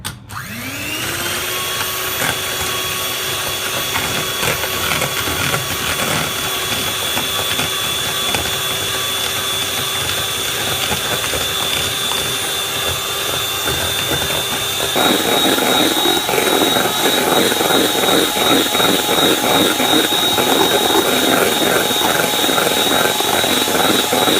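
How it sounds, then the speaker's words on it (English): An electric mixer whisks egg whites on high speed for a tiramisu, making a loud, continuous motorized whine close by that runs the whole time and grows a little louder and rougher partway through. "with the egg whites, we basically want to whisk it on a high speed until soft peaks form"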